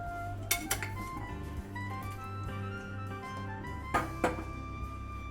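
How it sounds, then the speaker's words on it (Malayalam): A 5-litre pressure cooker is set onto a stove in a Kerala kitchen, giving a few sharp metallic clanks and clinks of pots against a steady low hum, with no talking. "അപ്പോൾ അടുപ്പത്ത് നമ്മുടെ ഈ പറഞ്ഞ 5 ലിറ്ററിൻ്റെ കുക്കർ അടുപ്പത്തേക്ക് വെച്ചു"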